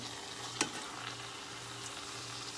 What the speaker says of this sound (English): So we're going to go in the hot oil.